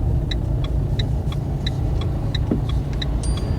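A car pulling away from a stop during a driving lesson: a steady low engine rumble runs throughout, with a regular turn-signal ticking clicking over it.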